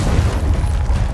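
A frag grenade explosion in the Gears of War 4 video game comes through as a loud, sustained low boom with a rumbling tail, heard close and alone without talk.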